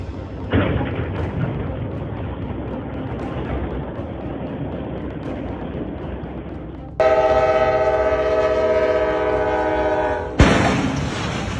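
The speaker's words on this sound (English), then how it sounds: "Train hits oversized load in Marion" A train rumbles past steadily, then a loud sustained horn blares for several seconds, followed by a sudden harsher burst of noise as it hits an oversized-load trailer in Marion, Ohio.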